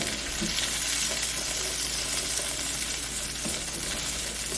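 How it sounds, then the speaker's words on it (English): Onion pan sauce with apples sautes in a hot pan after pork chops, a steady close sizzle with faint occasional stirring scrapes and no talk. "we're going to saute this for roughly about 2 minutes"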